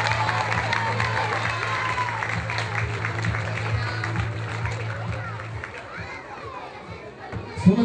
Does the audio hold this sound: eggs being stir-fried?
no